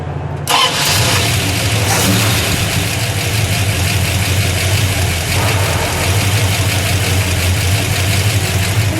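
A 1963 Plymouth Fury's V8 engine cranks and fires up, then settles into a loud, deep, rumbling idle with a lumpy throb, close by and with no talking.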